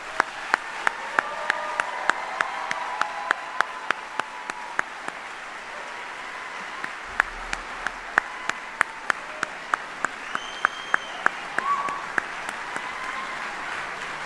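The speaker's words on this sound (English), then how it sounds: "Ladies and gentlemen, please join me in a round of applause for these 42 great soldiers." Audience applause at a Department of the Army retirement ceremony honoring 42 retiring soldiers, a sustained moderate clapping crowd with a few distinct sharp claps standing out, lasting the whole stretch.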